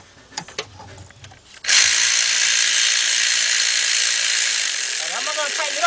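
A power ratchet whirs steadily near the engine while tightening timing chain cover bolts during a timing chain replacement on a GM V6. It starts after a few seconds of clicks and handling noises and runs continuously to the end.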